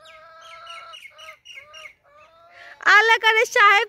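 Chickens on a farm beside wheat fields cluck in a string of short, fairly soft calls, then break into several louder, harsher squawks near the end.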